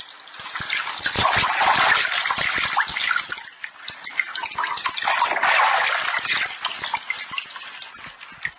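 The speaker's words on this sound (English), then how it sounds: "She's taking a bath in her hotel room." Bath water sloshes and splashes in a hotel bathtub, a close, continuous wash of liquid sound with bursts of stronger splashing throughout.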